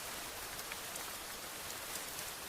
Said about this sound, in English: Rain roared violently now through the infinite corridor.